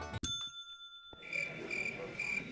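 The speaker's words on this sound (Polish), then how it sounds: "Emilia, weź zadzwoń dzwonkiem." A school bell rings inside a Minecraft school after a short click, a faint, high, steady ringing with a soft rhythmic pulse under quiet background ambience.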